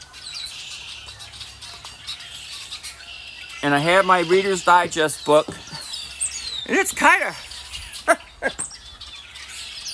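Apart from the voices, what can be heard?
blackbirds chirping noisily outdoors before flying south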